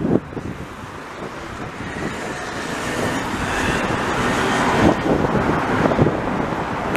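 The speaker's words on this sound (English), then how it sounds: "a little more wind here, eh?" Wind buffets the microphone on Rue Boyer in Montreal's Villeray district, a steady low roar with light street traffic mixed in, building slightly and gusting toward the end.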